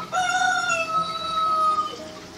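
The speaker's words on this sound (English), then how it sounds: "okay, Google, what's a rooster sound like?" A rooster's cock-a-doodle-doo crow plays loud and clear from a Google voice assistant speaker, one long drawn-out call with a falling tail, heard alone without talk.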